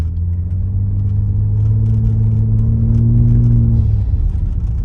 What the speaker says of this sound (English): It's just getting RPMs up and then letting off really quick.